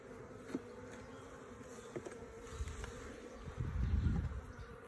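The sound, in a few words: Carniolan honey bees buzzing during hive inspection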